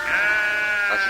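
Goats penned in a corral give a single sustained, wavering bleat at close range, clear and fairly loud, with no talking over it.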